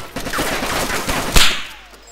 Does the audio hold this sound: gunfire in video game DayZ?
yes